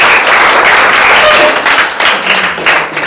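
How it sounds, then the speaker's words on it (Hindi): Audience applause for a student, Rakhi Kumari, called up after coming first in arts at a coaching-class test event: steady, dense clapping from a roomful of people, loud and continuous throughout. "एक बार ताली बजा दो इसके लिए"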